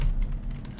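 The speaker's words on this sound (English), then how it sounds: "Well, I'll just type it out." Typing on a computer keyboard, a short run of soft, close key clicks over low background hum.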